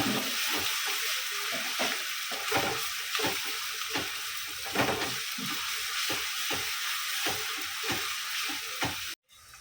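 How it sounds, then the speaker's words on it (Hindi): Steady loud sizzling of ginger and garlic frying in a pan, with rhythmic scraping and stirring strokes throughout. "अदरक लहसुन का कच्चापन जाने तक अच्छे से भूनेंगे।"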